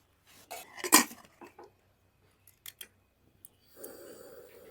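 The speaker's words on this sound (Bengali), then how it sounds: "এবার প্রেশারের ঢাকনা বন্ধ করে দেবো" A metal pressure cooker lid is set on and closed over fried potatoes and mutton curry: a sharp metallic clank, a few light clicks and taps, then a soft hiss near the end.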